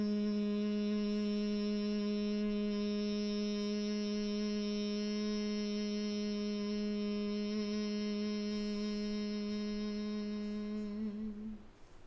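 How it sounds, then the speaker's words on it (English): A person hums one low, steady sustained note with a rich stack of overtones, loud and continuous for about eleven seconds before it fades out at the end. "And just simply hum."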